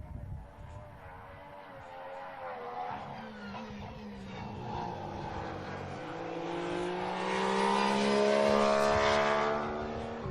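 A 2014 Formula 1 Mercedes at Bahrain pre-season testing passes the trackside, its engine note rising and swelling louder as it comes near, then holding a strong, high whine.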